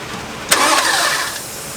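An engine with several loose exhaust connections cranks and catches with a sharp burst, then settles into a loud, steady running note for over a second before fading slightly, heard close up with no voices.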